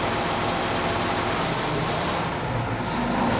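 A Doosan engine idles at a governed speed set by a DGC 2007 electronic governor, a steady, loud low rumble with constant mechanical noise throughout.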